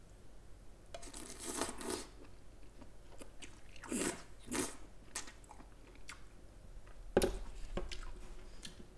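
Close, soft chewing of a mouthful of sea snail (golbaengi) somyeon noodles, with wet bites, squishes and light crunches in an irregular rhythm, alone and fairly quiet.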